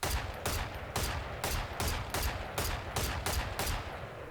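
Rifle shots from the Guardian in a video game, fired at an even paced rhythm, about nine sharp cracks spaced roughly half a second apart, each with a short decay, with no talk.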